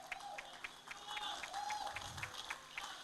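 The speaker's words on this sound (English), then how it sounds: "A huge round of applause for him, ladies and gentlemen." Applause from an audience at a golf tournament prize ceremony, with a spread of claps and crowd noise under a PA setting and faint voices; moderate, steady clapping that does not fade over three seconds.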